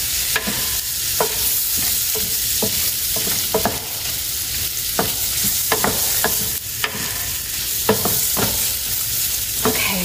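Pork for carnitas browns in a hot pan, crackling and sizzling continuously up close, with frequent sharp pops and spatters over the steady frying noise.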